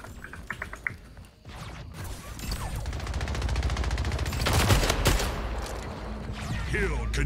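Submachine gun fire in the video game Splitgate, rapid sustained bursts building into a dense rattle that continues to the end, loud and close, with brief clicks and taps before the firing.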